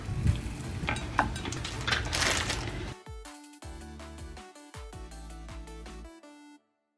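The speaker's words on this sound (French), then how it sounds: "Un petit peu d'huile, les œufs. Je laisse cuire" Eggs fry in a little oil in a pan, a dense crackling sizzle with a few sharp pops lasting about three seconds, then cutting off abruptly to a quieter stretch.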